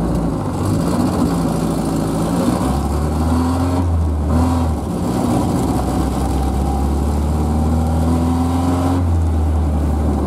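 A car engine idles close by, running slightly rough and uneven, with a steady low drone and small wavering pulses throughout and no talk.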